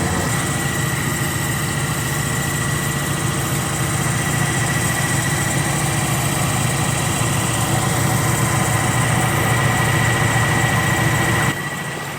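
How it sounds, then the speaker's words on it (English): A rented motorboat's engine idles steadily on Lake Windermere, a constant low droning rumble with faint vibration, close and unbroken for the whole stretch, easing slightly at the very end. "We're in a boat called Olivia"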